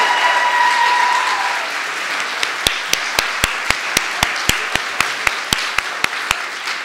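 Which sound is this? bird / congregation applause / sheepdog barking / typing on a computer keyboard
congregation applause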